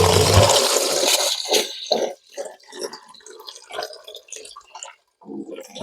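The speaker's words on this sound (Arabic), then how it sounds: "اول حاجه غندوز نديرها هي غادي نغسل هاد الروز هذا" Long-grain rice being washed: water pours and splashes loudly at first, then comes as a series of close swishing, sloshing bursts with short pauses.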